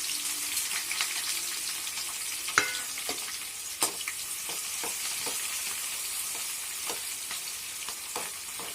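Cashew nuts and chopped onion pieces fry in a pan for a chicken fry dish, giving a steady soft sizzle broken by scattered pops and a couple of sharper stirring clicks.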